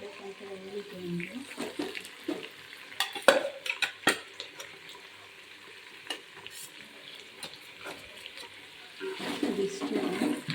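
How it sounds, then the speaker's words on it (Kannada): Ground masala paste for chicken sukka is tipped into a hot pan and stirred, giving soft scraping and a light sizzle in short bursts, with quieter pauses and a louder frying patch near the end. "ಈಗ ರುಬ್ಬಿರೋ ಮಸಾಲೆ ಹಾಕ್ತಾಯಿದ್ದೀನಿ"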